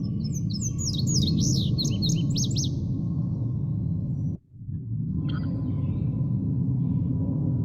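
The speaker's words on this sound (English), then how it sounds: "you're going to get to hear his song as well. This is the male indigo bunting." A male indigo bunting sings a run of quick, high, bright chirping phrases over a steady low rumble, then goes quiet before a few more faint notes near the end.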